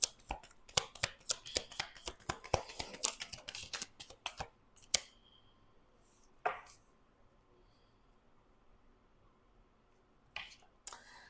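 Cards shuffled in quick riffling bursts, a rapid run of crisp clicks that stops, followed by a few isolated snaps and flicks with quiet gaps between.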